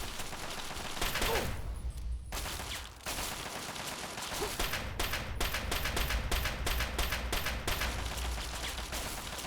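Gunfire in the video game Fallout 3, a run of sharp shots, some in quick bursts, fairly loud with brief pauses between volleys.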